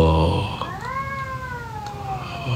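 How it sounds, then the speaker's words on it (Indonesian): A cat gives one long, drawn-out meow that rises and then slowly falls, heard up close in a quiet room. Brief snatches of a human voice come just before and after it. "kedengeran ya suara kucingnya?"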